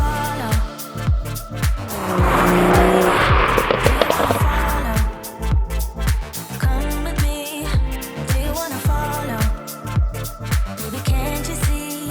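A BMW M140i on a cruise, its engine rising into a loud throaty surge of acceleration early on, then settling into a rougher, pulsing drive with changing revs.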